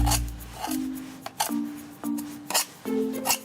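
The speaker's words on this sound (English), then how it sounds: "trim the excess off with a nice sharp knife" A sharp knife trims the excess off a homemade James Bond style number plate in a series of short rasping, scraping cuts with brief pauses between strokes, close and fairly loud.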